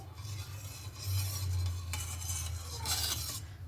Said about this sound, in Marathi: आता दही घातल्याच्या नंतर आपल्याला इथं थोडासा चम्मच अजून असं फिरून घ्यायचं आहे